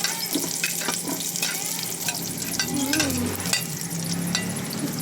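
Onions hitting a pan of sizzling garlic: a steady, dense frying hiss with occasional stirring clinks and scrapes, close and continuous throughout.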